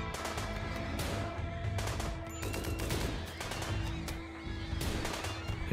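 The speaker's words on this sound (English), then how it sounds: "Light machine gun is handy for this" A light machine gun fires in RimWorld combat, steady rattling bursts of shots running almost nonstop at moderate volume, with brief gaps between strings of fire.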